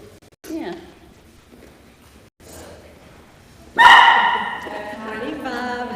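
A fluffy puppy at an outdoor animal blessing service gives a few yips and a sharp, loud bark near the end, mixed with people talking around it.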